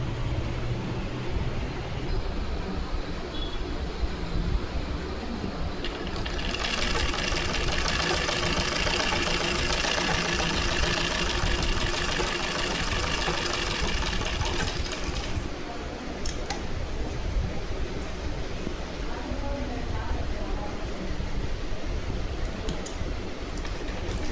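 A sewing machine runs a long line of running stitches on a lined blouse, a steady mechanical whir in the middle of the clip over a constant low background hum.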